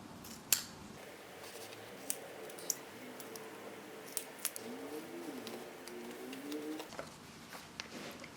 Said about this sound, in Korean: 여기 끝에 부분에 맞춰서 잘라주면 될 것 같아요.